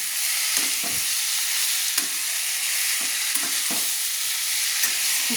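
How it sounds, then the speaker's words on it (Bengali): Long beans and potatoes frying with cumin paste hiss in a steady, close sizzle while a utensil stirs them, scraping with intermittent soft knocks against the pan. "দিয়ে আমি আবারও ভালো করে নেড়ে নিচ্ছি।"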